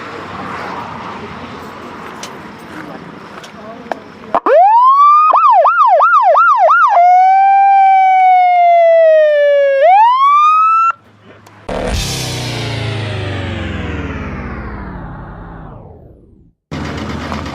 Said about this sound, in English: There wasn't a siren on the actual show, believe it or not, but let's it in afterwards.